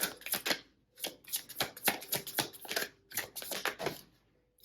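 Tarot cards are shuffled by hand in quick riffling bursts, crisp papery flutters coming in several rapid clusters separated by short pauses, close and clear.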